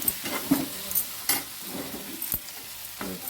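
Chili flakes and oregano stirred through a mixture in a pan with a light sizzle, spoon scrapes and knocks repeating every second or so, close and moderately quiet, no voices.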